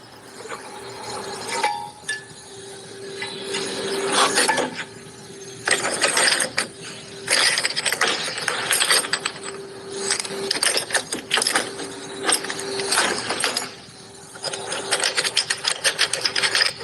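Mechanical ratcheting and geared clicking from a car differential being turned by hand in a race-engine workshop, a near, steady clatter in repeated bursts with brief pauses, no talk over it.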